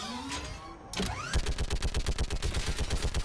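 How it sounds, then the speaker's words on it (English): Mounted gun in Mass Effect 3 opening up after a short whoosh, a steady rapid stream of evenly spaced heavy shots pounding close and loud to the end. "Get on that gun up there and do some damage."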